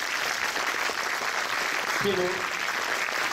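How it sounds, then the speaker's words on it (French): Festival opening-night audience applauding in a hall, steady dense clapping throughout while a voice briefly speaks over it near the end. "Et un applaudissement pour Daniel"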